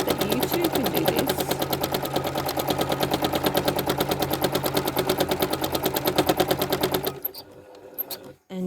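A sewing machine stitches free-motion quilting of a kissing-curves design, a fast steady rattling hum of needle strokes running loud and continuous for about seven seconds before stopping abruptly.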